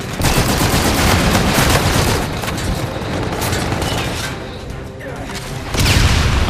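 Dense, loud gunfire and explosions from a Call of Duty: Infinite Warfare team deathmatch with ballistic and energy weapons, a nearly continuous barrage of shots with a brief lull before it surges again.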